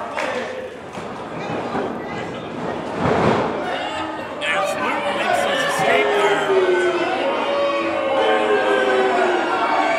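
A wrestling arena crowd roars and cheers for a wrestler heading into a match, loud and continuous, with a thud from the ring partway through and a commentator talking over the noise.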